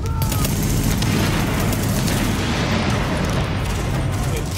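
A dense barrage of gunfire and booming blasts fills a subway morgue in The Division video game, loud and continuous with overlapping shots and rumbling impacts, while voices call out beneath the noise.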